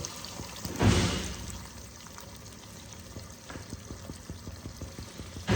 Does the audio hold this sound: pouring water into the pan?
yes